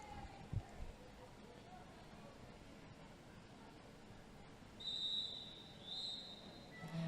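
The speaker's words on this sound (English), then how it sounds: "And that is that first whistle on the jam." A referee's whistle opens a jam at a junior roller derby championship game, two short shrill blasts heard at a distance over steady arena noise, with no talking.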